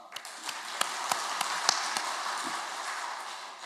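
Church congregation clapping together during a Sunday worship service, a dense wash of hand claps from a large crowd with a few sharper individual claps standing out, steady and sustained throughout.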